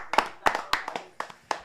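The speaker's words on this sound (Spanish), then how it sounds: "Fuerte el aplauso para la cobertura." A few sharp, distinct hand claps in a streaming studio, spaced in small bursts, close and crisp against near silence.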